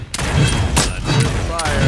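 Bursts of gunfire in a multiplayer shooter played with an Assassin loadout, several sharp shots spaced through a busy, steady game mix with a voice talking underneath.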